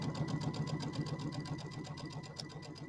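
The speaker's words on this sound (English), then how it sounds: "And drop my needle, and then I'm just going to run along my little fold here" A sewing machine runs steadily along a fabric fold with navy blue thread, its rapid, even needle clatter close and continuous for a few seconds, alone without talk.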